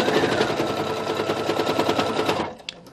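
A sewing machine stitches a quilted nine-patch pot holder with a fast, steady mechanical chatter for over two seconds, then stops, followed by a single small click.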